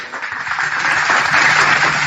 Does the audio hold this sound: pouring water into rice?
no